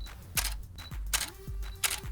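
Shutter of a Canon 5D Mark IV DSLR firing several times in quick succession, each sharp mechanical clack close and distinct, spaced roughly a third to half a second apart.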